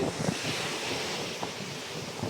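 Sea waves wash continuously onto the shore under steady wind buffeting the microphone, a broad, constant surf roar with no voices.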